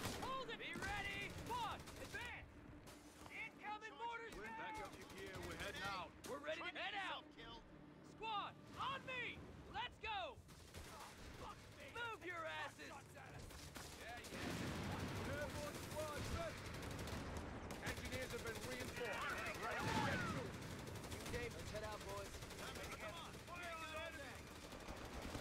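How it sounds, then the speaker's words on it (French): Machine gun fire in Company of Heroes 3, rapid bursts rattling over a steady battlefield din with other gunfire and rumbling, while voices speak at moments. "Un mitrailleuse."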